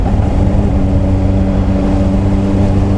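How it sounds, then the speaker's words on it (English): A Honda CBR600 motorcycle engine runs close and loud through clutchless upshifts with throttle blips, a steady buzzing drone with faint rises in pitch and no talking. "what you're doing is that you are blipping the throttle"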